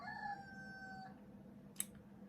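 A rooster's crow trails off faintly in the distance, followed by a short sharp click against a low steady hum.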